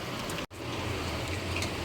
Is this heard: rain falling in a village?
yes